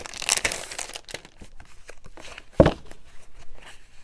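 Sheets from a 6x6 pad of double-sided craft paper are handled close by, giving irregular crinkles and rustles with one sharper crisp snap partway through.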